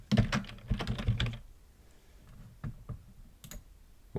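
Computer mouse clicks in an office setting while navigating a code review menu: a quick burst of sharp clicks up front, then a few sparse, lighter clicks spaced apart, close and clear with no talk.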